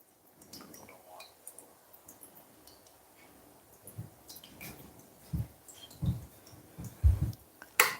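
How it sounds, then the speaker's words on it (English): Sunflower oil from an opened tuna tin dripping and splashing into a container in a kitchen, starting as faint taps and building into louder, irregular drips and small splats toward the end, with no talking. "I'm gonna pour this out because I don't want this oil in it."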